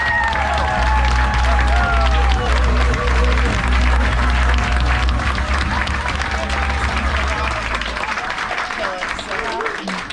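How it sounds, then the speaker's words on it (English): An audience on a Viking cruise ship gives a big round of applause for the captain, loud dense clapping with cheers and crowd noise running steadily throughout before easing slightly at the end. "big round of applause for your captain."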